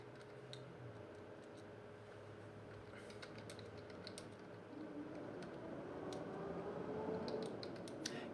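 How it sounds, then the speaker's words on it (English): Quick, light keystrokes on a computer keyboard tap out a short message, an irregular, soft clicking close to the microphone over a faint background hum. "I'm just typing a quick message."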